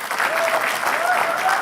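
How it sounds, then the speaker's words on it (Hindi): A live comedy roast crowd claps hard for a guest's welcome, a brief, loud, continuous burst of applause filling the room. "तो उर्फी के लिए एक जोरदार तालियां बजाएंगे."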